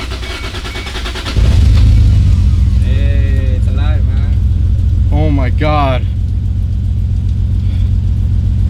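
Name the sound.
Toyota Supra 2JZGTE engine running after first start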